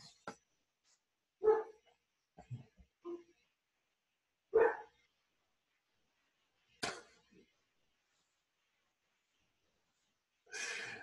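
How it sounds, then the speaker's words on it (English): Dogs barking indoors in a house, a few short separate barks scattered with pauses between them, fairly quiet and somewhat distant, with no talking over them. "Those are just dogs in the house."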